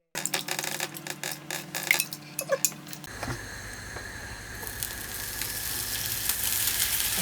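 Butter and a little oil sizzling in a pan for French toast, a steady close hiss and crackle that swells after a few clinks and taps of utensils and cookware at the start.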